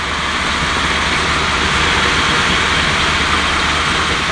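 A Triumph Stag V8 engine runs steadily on test in a workshop, a loud continuous rumbling drone with no break and no voices.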